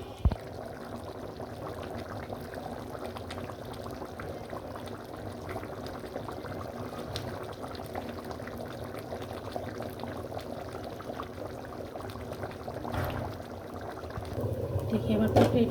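Beef rezala curry with milk and water simmering toward a boil in a pot, a steady close bubbling and gurgling that grows slightly louder near the end, with no talk over it.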